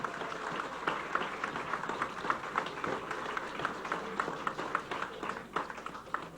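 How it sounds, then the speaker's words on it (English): A crowd at a university commencement ceremony applauds the graduating class of 2010 and 2011, a steady, dense wash of clapping sustained throughout, moderately loud and fairly close, with no talking over it. "A round of applause for them."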